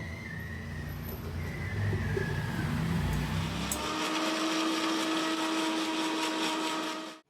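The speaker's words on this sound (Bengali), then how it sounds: "মিক্সির জার নিয়ে নিয়েছি, এর মধ্যে নিয়ে নিলাম কিছুটা কাজু, এই 10-12টা মতন।" A mixer grinder whirs as it blends about a dozen cashews with a little water into a smooth paste. The loud motor drone shifts to a higher, steadier whine midway, then cuts off abruptly.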